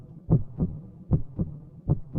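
A heartbeat thumps in a steady lub-dub rhythm, about three double beats in quick succession, low, soft and close with nothing else over it.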